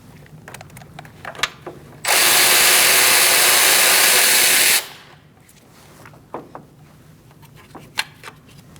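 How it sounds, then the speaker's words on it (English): Power tool with a 13mm socket and extension removing transmission mount bolts on a 2016-2019 Chevrolet Cruze 1.4L, one loud whirring burst of about three seconds amid quieter clicks and handling noises. "Remove these two bolts, one here and one here. I'm using a 13mm socket with an extension."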